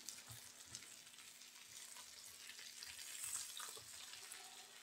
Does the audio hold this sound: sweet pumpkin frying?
yes